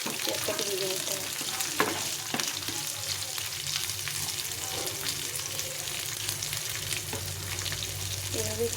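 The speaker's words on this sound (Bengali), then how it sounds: "পেঁয়াজটাকে ভেজে নিতে হবে।" Chopped onions fry in a pan with a steady, close sizzle. Stirring scrapes and taps occasionally as the onions are cooked until reddish-brown, and no one speaks.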